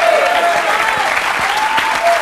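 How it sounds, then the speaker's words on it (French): A French television studio audience applauds in a loud, sustained, even ovation close by, with a faint tonal hum running beneath the claps. "On peut les applaudir parce que vraiment."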